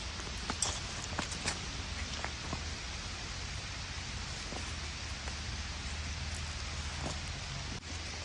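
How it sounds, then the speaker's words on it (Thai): Light rain falls on a forest on the walk out, a soft, steady patter of small drops with scattered taps on leaves, continuous and even throughout with no voices. "ได้ยินเสียงอัน ฝนลงเม็ดน้อยๆ แล้วค่ะ"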